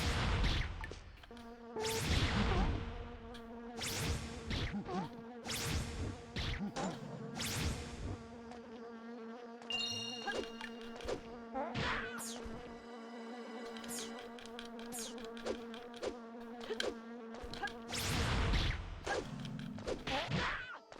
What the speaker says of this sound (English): now it's worse in here because now there's fucking bugs